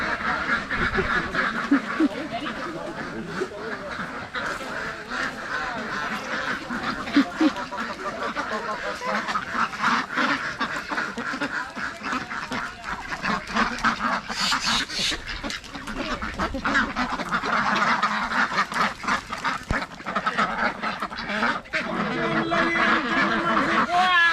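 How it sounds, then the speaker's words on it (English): A flock of ducks quacking continuously, busy and layered, with honking mixed in and faint voices in the background. "So this is the duck stop."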